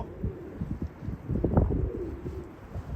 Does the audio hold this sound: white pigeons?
yes